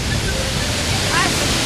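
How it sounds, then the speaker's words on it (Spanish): Waterfalls at Huancabamba, Peru, roar as a steady, loud wash of broadband rushing noise that fills the whole moment without pause. "Las cataratas son preciosas"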